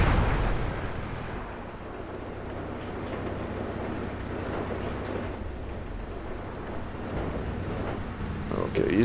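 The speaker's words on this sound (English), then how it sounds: "We've got that artillery on our position already." Artillery shells land in a World of Tanks battle, a dense, sustained rumble of explosions with low booming energy throughout and a sharper blast near the end, loud and continuous with no voices over it.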